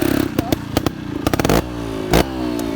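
A Beta Evo 250 Factory 2020 trial motorcycle blips and revs in short sharp bursts, its engine note rising and dropping with clattery mechanical noise close by.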